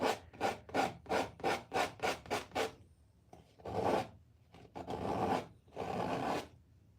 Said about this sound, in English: we're just gonna take and scrape this paint away